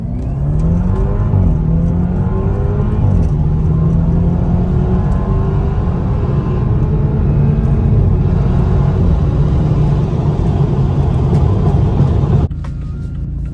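A tuned BMW E30 with an N26 engine pulls hard from a rolling start, the loud engine note climbing through the revs, dropping with a shift, then climbing again before easing off near the end.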